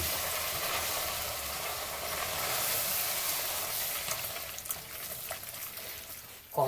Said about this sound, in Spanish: bajamos el fuego y vamos moviendo hasta que el requesón se derrita